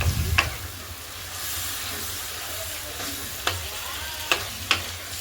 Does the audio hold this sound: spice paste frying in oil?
yes